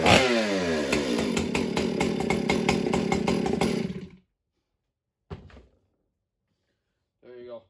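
A Stihl MS461 chainsaw engine roars loud and steady for about four seconds, then cuts out to silence, followed by two brief, fainter sputters.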